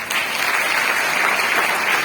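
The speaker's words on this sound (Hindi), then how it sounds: "एक बढ़िया से ताली बजाएंगे।" Audience applause at a company second-anniversary celebration, steady dense clapping from a crowd sustained for a couple of seconds without talk.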